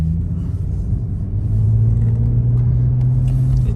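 An Infiniti G35xs with an ISR single exit exhaust drives along, its deep, loud rumbling drone building slightly as it accelerates, heard from inside the car.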